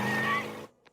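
A sports car in the animated cartoon Phineas and Ferb skids with a loud, high tire squeal that cuts off abruptly after about half a second.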